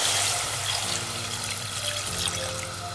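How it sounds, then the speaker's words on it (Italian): Water or broth is poured steadily into a pot of toasted prawns, a continuous loud splashing gush with a faint bubbling hiss, close and unbroken for the whole stretch. "acqua o brodo"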